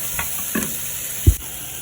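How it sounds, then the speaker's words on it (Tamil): Chopped green beans stirred into a pan where they fry, a low steady sizzle with a few scraping stir strokes and one sharp knock of the utensil against the pan. "வெட்டி வச்ச பீன்ஸை போடுவோம் அங்கே போட்டு வடிவா எல்லாம் சேர்ற மாதிரி கிளறி போட்டு"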